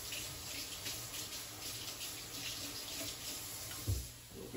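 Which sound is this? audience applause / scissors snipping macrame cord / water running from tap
water running from tap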